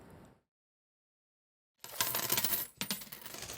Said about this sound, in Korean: 서랍 속에서 잠자고 있는 100원 동전들.